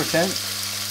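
Beef searing in about three tablespoons of hot oil in a pan gives a brief, close sizzle that fades quickly.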